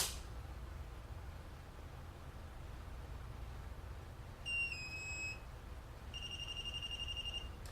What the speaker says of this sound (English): pull the trigger and hold it until the gun beeps, and then it will tell you what mode it is in.